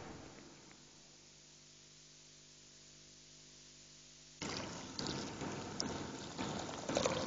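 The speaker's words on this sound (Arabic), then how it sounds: "حنضيف المي" Water poured into a pot of rice: after a quiet hum, a sudden broad rushing splash begins and continues steadily, growing slightly louder toward the end.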